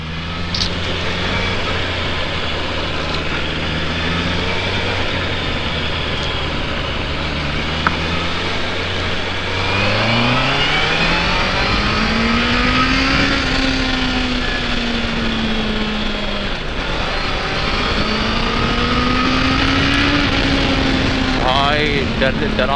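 A 2024 Honda CBR650R, an 89 bhp four-cylinder motorcycle, is ridden hard. Its engine note climbs repeatedly in pitch through the gears, loud and close, with brief dips at each shift.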